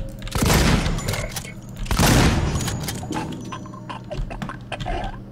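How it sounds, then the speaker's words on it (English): Two loud, close shotgun blasts from the Alien: Isolation video game, the first near the start and the second about a second and a half later, each leaving a booming tail, followed by fainter clatter and movement. "Okay, two shotgun shells will take him down."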